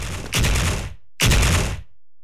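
Two long bursts of Counter-Strike gunfire crash out during a tournament match, each a dense, loud rattle lasting over half a second, separated by a short silence.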